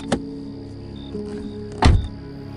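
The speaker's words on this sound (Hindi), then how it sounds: "श्वेता गेट खोलकर आगे की सीट पर उसकी बगल में ही आकर बैठ गई" A car door on a quiet highway at night opens with a short thunk, followed after a pause by a heavier, louder thud as it shuts, with faint mechanical clicks in between.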